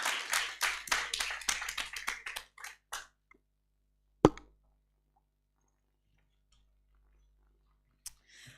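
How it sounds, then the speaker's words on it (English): A small audience at a national inter-university constitutional law moot court competition claps briefly, a sparse run of close hand claps that thins out after a few seconds, then a single sharp clap and near silence. "Please give their lordships another round of applause"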